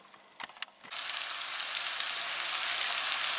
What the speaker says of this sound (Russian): Вот смотрите, такой грибочки уже поджарились.